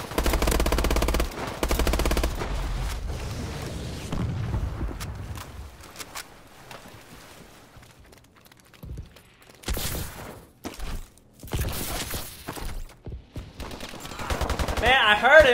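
Bursts of automatic gunfire from a Call of Duty match crackle loudly in the opening seconds, then drop to scattered shots and short sharp reports later, with game effects and faint voices mixed in.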